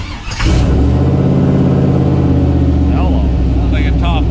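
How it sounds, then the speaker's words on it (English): A 350 small-block Chevy V8 catches and revs hard in a close, loud, steady roar that holds for several seconds. "Sounds like a top alcohol car fired up."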